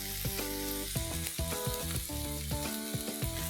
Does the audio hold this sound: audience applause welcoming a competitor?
no